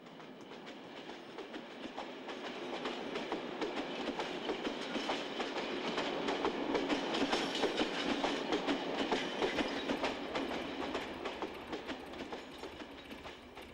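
A train rolls past on the rails with a steady clattering of wheels and a broad rumble. The sound swells as it nears, peaks mid-way, then eases slightly, with no voices over it.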